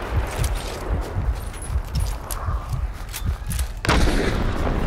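Gunfire in the game Hunt: Showdown, a string of sharp, loud shots with irregular spacing and echoing tails, then a heavier blast near the end raising the overall noise.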